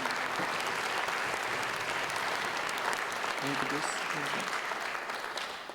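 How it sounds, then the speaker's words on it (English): Sustained audience applause opens a festival of Indian classical music and dance, a dense steady wash of many hands clapping throughout, with a brief voice or two surfacing faintly underneath before the ovation tapers slightly at the end. "please give them a wonderful round of applause"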